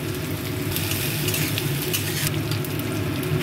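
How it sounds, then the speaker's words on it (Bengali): Chili and cumin tempering in hot oil, a loud, steady crackling sizzle with brief bursts of sharper spattering, close and continuous with no talking. "প্রথমেই আমি ফোড়নে লঙ্কাটা দেবো, জিরে দিচ্ছি"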